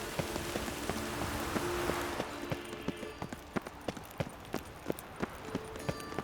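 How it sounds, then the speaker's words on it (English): Rain patters steadily in The Witcher 3 video game, a soft hiss of drops joined by a regular, close clip-clop of hooves that grows more distinct as the downpour eases. "I like rain. Keeps the rogues indoors."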